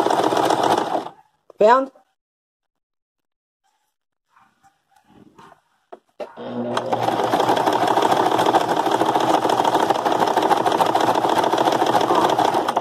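Close up, a home sewing machine stitches fabric in a fast steady mechanical whir that starts after a quiet stretch with a short voice and some clicks, then runs continuously and loud.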